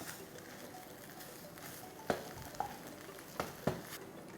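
A spoon stirs a veg burger mixture with grated paneer and coriander in a pan, a soft steady sizzle broken by a few sharp taps and clinks of the utensil against the pan.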